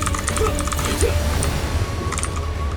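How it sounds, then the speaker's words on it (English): Computer keyboard keys clatter rapidly in bursts during a hectic online game fight, close and steady over a low background hum, with no talking. "Do you hear my keyboard?"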